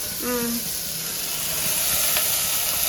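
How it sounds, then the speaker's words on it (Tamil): Washed mutton dropped into a hot pan, a steady close sizzle and steamy hiss, with a brief voice near the start. "இப்போ மட்டனை கழுவி வச்ச மட்டனை உள்ளே போடவும்."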